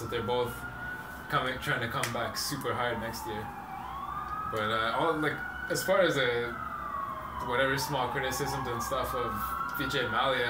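Emergency vehicle sirens wail outside in a city street, their rising and falling tones sliding repeatedly beneath continuous close conversation and growing slightly louder.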